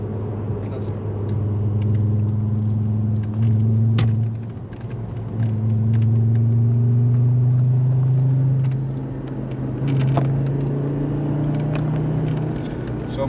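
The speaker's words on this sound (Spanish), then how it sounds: "Son motores que aceleran muy bien." Volkswagen Golf IV engine accelerating, a steady low rumble that rises and dips in pitch as it revs, loud and close, with someone talking over it.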